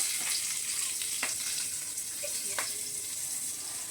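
Halved karamcha fruit frying in oil left from frying fish, a soft, steady hiss with a couple of faint taps, fairly quiet and continuous.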